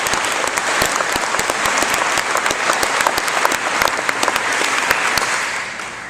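Sustained applause from a graduation audience for the staff at the Medora Class of 2012 ceremony, a dense steady clatter of many hands lasting the full stretch, fairly loud and fading slightly at the end.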